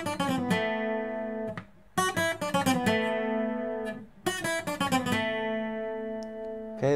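Requinto guitar picking a lead line from a song at full tempo, bright plucked notes in quick runs broken by short pauses, with sustained ringing tones between bursts, played alone and close.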